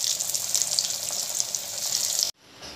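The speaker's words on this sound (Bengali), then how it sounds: "এটাকে কিন্তু একদম লো স্টিমে করে ফ্রাই করতে হবে, পিটোপিট করে, যাতে ভিতরটাও ভালো করে ফ্রাই হয়" Banana flower cutlets frying in hot oil on low heat, a steady close hiss and crackle that runs unbroken and loud, then cuts off abruptly near the end.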